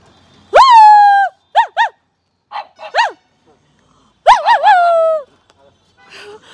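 A bulldog barks loudly and close by in short separate bursts, with a double bark near the start and another run of barks after a pause. Quieter scraps of sound fill the gaps.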